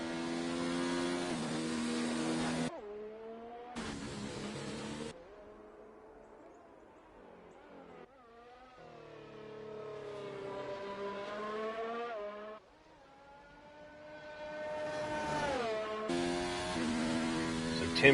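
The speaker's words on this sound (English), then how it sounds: "Looks like we've got a couple of cars leaving the pits." Race cars pull out of the pits at a GRL round in Australia, engines revving hard through repeated gear changes in loud, shifting pitch sweeps, with brief gaps between passes and no talk.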